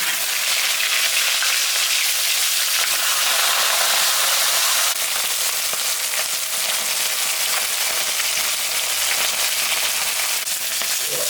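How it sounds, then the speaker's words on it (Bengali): A fish head frying in hot oil, a loud, dense, continuous crackling hiss close up that holds steady throughout with no voices. "এখন আমি মাছের মাথাটা ভাজে"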